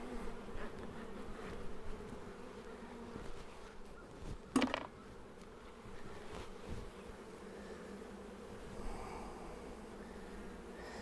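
Honeybees buzz continuously around a swarm trap outdoors, a dense close hum with a brief louder bump partway through and no talking.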